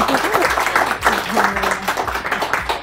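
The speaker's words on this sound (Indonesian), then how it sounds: "tepuk tangan dulu dong teman-teman semua" A seated audience at a perfume-making workshop talk claps together, a moderately loud, uneven burst of many hands with some voices mixed in underneath.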